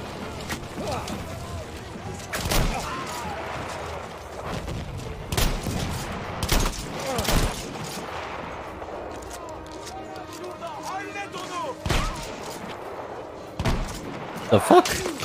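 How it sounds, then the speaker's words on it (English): Artillery shells and gunfire boom and crack repeatedly across a World War I battlefield in the game Battlefield 1, scattered distant blasts and volleys at irregular intervals, with a player talking over the chaotic battle noise. "Oh, thank you, artillery."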